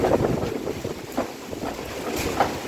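Strong wind buffets zinc roof sheets with a continuous rushing roar and uneven gusts, rattling and loud, with trees being pushed hard nearby and no one talking.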